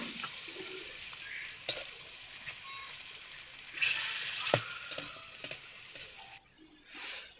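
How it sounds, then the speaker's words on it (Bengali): Pieces of rohu fish are dropped one by one into hot oil, producing a soft, fairly faint sizzle with scattered sharper pops and clatters as they settle in the pan. "আর এখন আমি মাছগুলো এক এক করে তেলের উপরে ছেড়ে দিই।"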